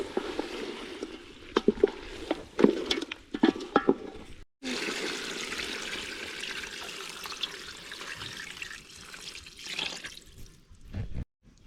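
Water pours and trickles steadily into a cooking pot of duck stew seasoned with black pepper, a continuous close liquid splash with a brief pause partway through and a few small drips.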